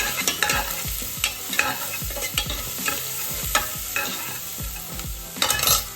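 Onion and fenugreek leaves being stirred and fried in a pan for a country-style chicken sambar, giving rapid rhythmic scraping and clinking strokes over a continuous sizzle, close and fairly loud, without speech.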